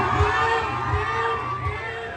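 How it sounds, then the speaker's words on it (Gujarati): A crowd at an outdoor honoring ceremony cheers and claps in a dense, continuous roar, with a loud amplified thumping beat pulsing underneath. "જમણો અને ડાબો હાથ ભેળો કરી જોરદાર તાળીઓના ગડગડાટથી વધાવીશું"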